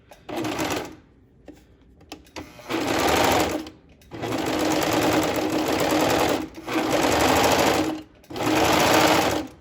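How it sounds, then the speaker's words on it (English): A serger sewing machine running in several loud, fast bursts as it forms a chain stitch, steady mechanical whirring close by, separated by short pauses with faint clicks. "let's try it out, see if it's forming a chain stitch"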